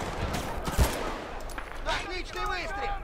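Gunfire in the video game Battlefield Bad Company 2: a sharp shot, then scattered distant bursts with whooshing and whistling effects, under game voices and player speech.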